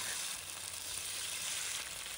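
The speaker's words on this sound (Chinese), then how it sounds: "油热后，把腌制好的鸡胸肉放入锅中" Marinated chicken breast sizzles in hot oil in a pan, a steady bright hiss of frying that stays even and continuous, heard alone at a modest level.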